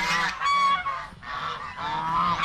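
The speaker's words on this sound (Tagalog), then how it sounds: "pag mag-ingay yung mga gansa, napakaingay mga kaprobinsya" Several geese honk loudly and repeatedly, nearby, their harsh nasal calls overlapping in short bursts.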